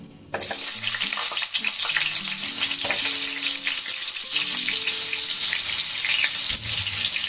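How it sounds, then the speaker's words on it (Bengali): Potatoes frying in oil in a wok, a loud, steady hiss and crackle of sizzling with occasional stirring scrapes throughout. "তেল দিয়ে দিয়েছি কড়াই আমি এখন প্রথমে আমি ভেজে নেব এই আলুগুলোকে"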